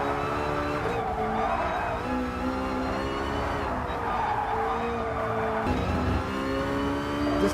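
A Fittipaldi EF7 VGT race car in Gran Turismo Sport brakes hard into a tight corner, engine tone stepping down through gears with tyre scrub and squeal over a loud constant roar.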